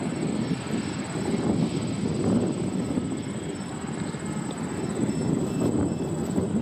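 A HobbyKing KK2.0 auto-leveling RC multirotor flying into the wind gives a steady, continuous motor and propeller drone with wind rumble underneath, holding a fairly constant loudness throughout.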